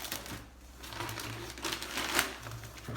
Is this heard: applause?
no